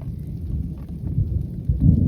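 Thunder rumbles low and heavy through steady rain in a storm over flooded cotton fields on a farm, swelling louder toward the end, with no voices.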